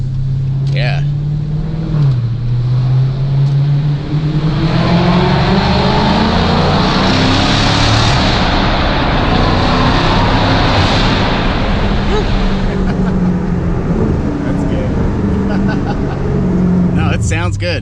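A loud Dodge Challenger V8 with a mid-muffler delete drones and rises in pitch as it revs and accelerates, a throaty exhaust roar filling the whole stretch with steady intensity.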